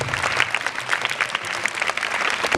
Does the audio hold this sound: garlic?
no